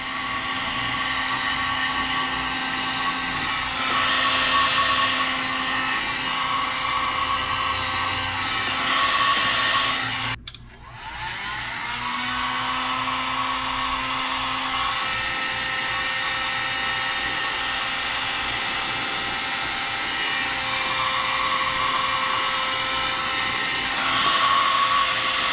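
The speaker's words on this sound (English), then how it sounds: "Take your heat gun, heat her up." A heat gun blows steadily with a constant whirring roar while heating heat shrink on a custom A/C hose, cutting out briefly midway before restarting and running on.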